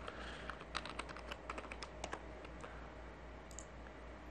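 Quick bursts of computer keyboard typing and key clicks while entering text into Notepad on a Windows PC, close and fairly quiet over a steady low hum, with no talking.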